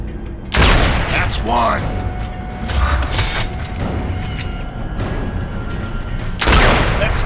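Sniper rifle shots in a video game: a loud, sharp blast near the start and another near the end, with mechanical clatter and reverberant booms between them and a voice speaking over the sounds.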